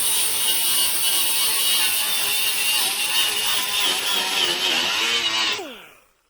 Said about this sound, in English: I'm going to turn on the compressor and get this.